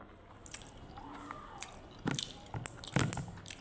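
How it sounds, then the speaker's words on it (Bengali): Rice eaten from a bowl, with soft, close squishy chewing and a few sharper clicks and scrapes, faint and irregular. "বাটির মধ্যে ভাত খাচ্ছি, দেখছেন?"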